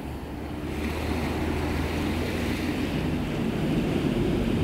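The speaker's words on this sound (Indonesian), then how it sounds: "di pinggir pantai, menikmati pasir yang lumayan bersih, pantainya cukup landai." Surf rolls steadily onto a gently sloping, fairly clean sandy beach at Tapaktuan in South Aceh, a loud continuous wash of waves with wind buffeting the microphone and no voices.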